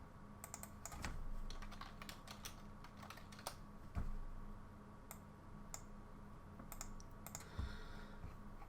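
Quiet typing on a computer keyboard while entering text at a desk, a steady patter of soft key clicks with occasional louder taps, no voices.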